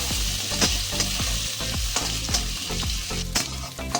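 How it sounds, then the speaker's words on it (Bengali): Potato and onion frying in hot oil for a Bengali fish-head and greens stir-fry, with steady sizzling and repeated close scrapes of a spatula stirring the pan, no voices. "এবার এগুলোকে আমি সুন্দর করে ভেজে নেব"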